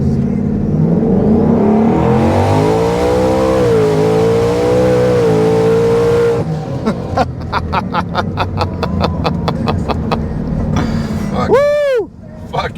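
A 2024 Ford F150 5.0 twin-turbo truck, tuned to about 1,000 horsepower, makes a full-throttle dyno pull. The engine roars as it climbs through the revs, then falls silent before a string of sharp pops and a final whooshing sweep.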